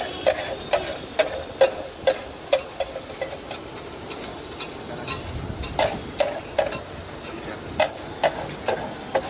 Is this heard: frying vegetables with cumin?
yes